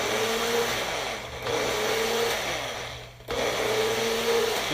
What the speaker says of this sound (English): So we're going to blend it